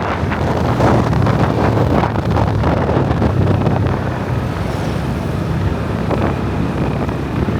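Cold early-morning wind rushes and buffets steadily during a drive, a loud, continuous roar of air against the microphone with low rumbling beneath, easing slightly toward the end.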